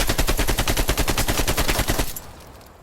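An AK47 fires a rapid, sustained full-auto burst in Call of Duty: Black Ops Cold War, roughly two dozen sharp evenly spaced shots for two seconds before stopping abruptly into a short decaying tail.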